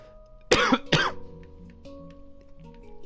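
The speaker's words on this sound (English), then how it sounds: "That cough stuck up on me." Two sharp coughs in quick succession from a single person, close and loud, followed by faint background hum and quiet clicks.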